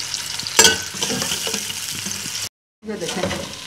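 Whole spices for fish biryani sizzling and frying in a hot pan, a steady close crackle with stirring scrapes, cut by a brief silence before the sizzle resumes.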